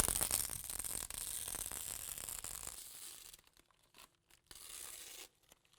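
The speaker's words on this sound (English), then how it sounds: "in about an hour or so, I'll be able to peel that tape off" Tape being peeled from the edge of a freshly poured epoxy resin worktop, giving a sustained bright tearing rasp for nearly three seconds, then fainter intermittent peeling and crinkling bursts with short pauses, close and alone.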